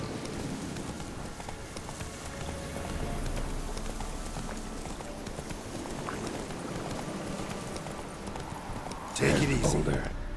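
Geralt's horse Roach gallops in The Witcher 3, a steady clip-clop of hooves running under a voice urging the horse on, with a sharp louder burst near the end.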